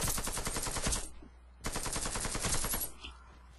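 Rapid bursts of AK automatic rifle fire in the video game Warface, in two sharp volleys separated by a brief pause, loud and close, with crisp repeating shots.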